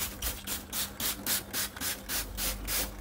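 Stiff brush scrubbing inside a car compartment, rhythmic back-and-forth bristle strokes about four per second, loud and close with no talking.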